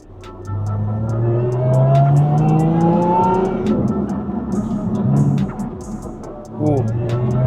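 A supercharged car with a Milltek exhaust and Eventuri intake accelerates hard, its engine note climbing through the revs with a supercharger whine, then easing off and firing again. Loud and close from inside the cabin, with crackling pops and a voice speaking.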